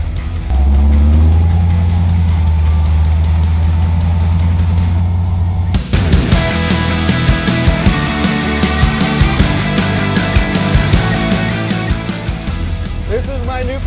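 A 1972 GMC Suburban engine runs during a drive, first a steady low drone and then a louder, rougher cabin roar with rhythmic knocks and rattles after a sharp jolt, continuing throughout.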